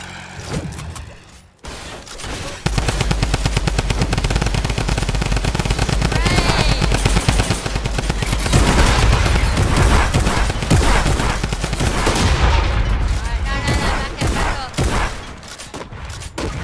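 Sustained rapid automatic gunfire from a video game fight rattles on loudly and nearly continuously, with dense overlapping shots and a brief lull at the start.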